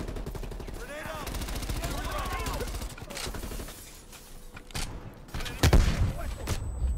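Video game gunfire in Call of Duty: Black Ops Cold War, with rapid automatic bursts and fusillades alongside heavy impacts and a loud thud near the end, while in-game voices speak over the combat.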